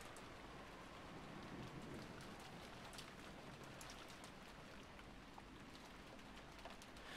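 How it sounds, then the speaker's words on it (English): Steady rain with wind fills a room in the Umineko visual novel, a constant dense hiss with scattered droplet ticks, even and unbroken throughout. "as the sound of the rain, wind and rain slowly filled the room once again"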